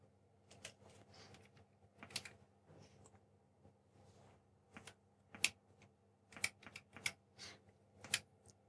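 Commands are typed on a ZX Spectrum +2 keyboard, with sparse, irregular clacking keystrokes close by over a faint steady hum, with short pauses between bursts.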